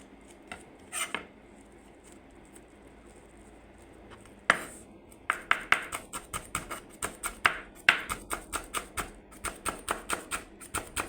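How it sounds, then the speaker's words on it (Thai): A knife chops kaffir lime leaves on a cutting board, a few scattered taps at first, then a fast, steady run of crisp close strikes with no talking. "ก็มาหั่นใบมะกรูดนะคะ"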